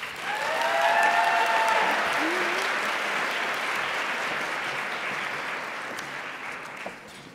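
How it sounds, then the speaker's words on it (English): Sustained applause from an evening event audience at a women-in-engineering celebration, loud at the start and fading slowly over several seconds, with a few brief voices and whistles mixed in near the beginning. "Let's give one more round of applause to Emerson and Halliburton for their support here this evening."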